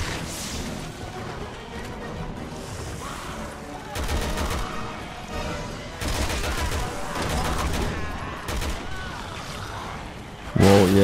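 Weapons fire in Resident Evil 6 during a weapon test: bursts of rapid automatic shots at about 4, 6 and 9 seconds, set against a steady washing game background, with a brief loud thump at the very end.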